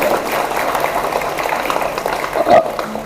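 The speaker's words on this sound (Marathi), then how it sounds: "उमेदवारांसाठी जोरदार टाळ्या सर्वांसाठी." An audience claps steadily for candidates at the opening ceremony of a large job fair in CBD Belapur. The dense applause stays fairly loud throughout the short stretch and swells briefly near the end.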